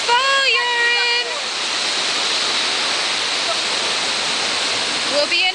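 Hohenschwangau waterfall in Bavaria pours with a loud, steady roaring rush of water close by, while a voice talks briefly at the start and again near the end.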